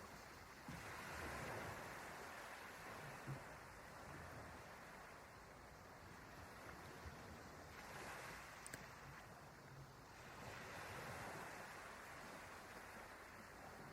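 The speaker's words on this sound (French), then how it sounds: "restez attentif à ce bruit des vagues" Ocean waves wash in a steady, soft, distant roar with gentle surges rising and falling throughout. No voices are heard.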